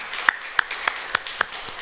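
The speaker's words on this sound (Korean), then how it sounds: "우리 주님께 영광의 박수 올려드리겠습니다." Congregation in a church giving a short round of applause, about five sharp, sparse claps spaced evenly over a soft background, moderately near.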